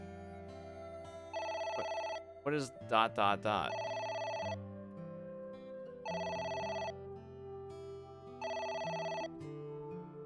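Telephone ringing in the video game AI: The Somnium Files, repeated ring bursts at steady intervals, loud and close, with a short spoken exchange between the second and third rings.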